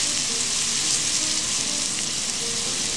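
Bay leaves and spices sauté in a hot pan with a steady, bright sizzle that stays even and close for the whole stretch, with no talking.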